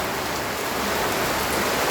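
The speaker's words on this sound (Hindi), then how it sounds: "इतनी तो बारिश हो रही है।" Heavy rain falls in a dense, continuous hiss that stays loud and even from start to finish, with no voices heard.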